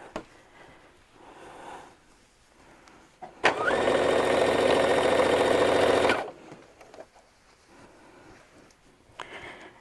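Sewing machine running steadily for about three seconds as it stitches a quilt block onto a shirt with a quarter-inch seam, a close, even mechanical whir that starts and stops abruptly against a quiet room.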